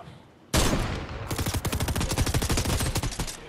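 Gunfire in the Fortnite video game, opening with a loud blast followed by a rapid, dense volley of shots that continues for about three seconds.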